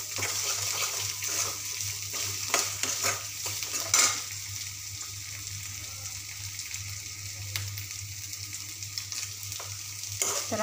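Finely chopped tomato cooks in masala in a pan with a continuous close sizzle, scattered spoon clinks and stirring scrapes over a low steady hum, no talking.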